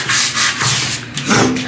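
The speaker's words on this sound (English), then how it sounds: "I really got in here and scrubbed it in a circular motion with the brush." A brush scrubs soap scum off a shower door in quick circular strokes, a loud, close, rhythmic rasping with several distinct passes.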